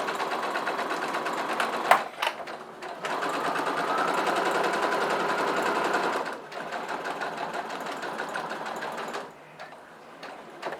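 A sewing machine stitching bag lining fabric runs in steady, fast mechanical bursts, with brief pauses between runs of stitching, close and clear, and no talk over it.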